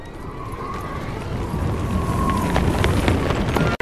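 An approaching army's horses galloping across open country in a Chinese period film, heard as a loud, dense, steady rumbling roar with a faint high whinny-like tone riding above it.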